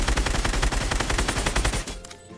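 SCAR assault rifle firing in Fortnite Creative, a fast continuous burst of loud, evenly spaced shots lasting about two seconds before cutting off.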